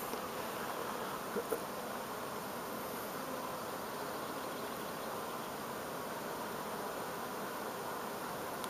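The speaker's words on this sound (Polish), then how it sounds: "Pszczoły pracują od rana do wieczora." Honey bees buzz at their hives beside rapeseed, orchards and dandelions in full bloom in May, a continuous faint swarm hum with no voices.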